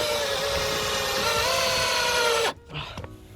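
A power drill bores a corner hole for a DIY koi pond build, a loud continuous whine held for over two seconds that then cuts off abruptly, followed by brief handling noise.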